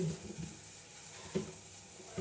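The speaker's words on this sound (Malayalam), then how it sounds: "ഇനി നമ്മൾ അതിൽ നെയ്യ് ഒഴിച്ചു കൊടുക്കണം നെയ്യ് ഒഴിച്ചിട്ട് അത് വഴറ്റിയെടുക്കണം" Ghee sizzling as it is sautéed in a pan on a home stove, a steady faint hiss with a few soft stirring scrapes and clinks.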